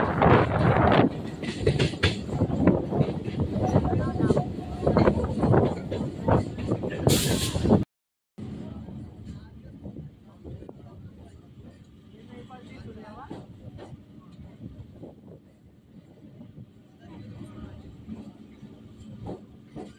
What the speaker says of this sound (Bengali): এখন ট্রেন ঢুকছে মগরাহাট স্টেশনে।